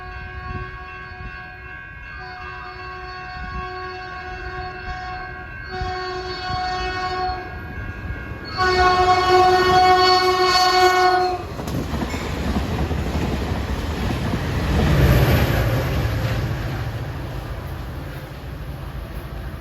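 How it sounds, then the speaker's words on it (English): A San Francisco-bound Caltrain commuter train rumbles past in San Mateo with a loud, sustained multi-tone horn blast partway through, followed by rolling wheel noise that swells and then fades. "Got a San Francisco bound train at 4:14."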